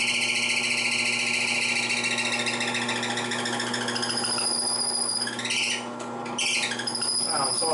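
A power drill bores small holes into a workbench, its motor giving a steady, close whine throughout, with a brief change in pitch near the end as the bit bites and eases.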